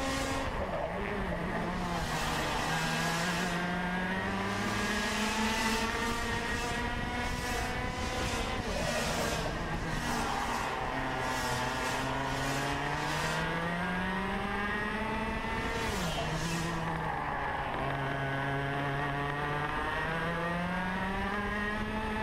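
X30 senior racing karts scream at full throttle, heard on board during a 2017 SKUSA Pro Tour SpringNationals race, a loud continuous engine whine rising and falling in pitch with each corner.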